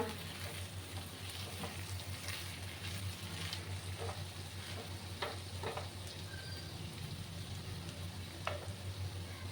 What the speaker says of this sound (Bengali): দেখো বন্ধুরা আবার আমি নাড়াচাড়া করে দিলাম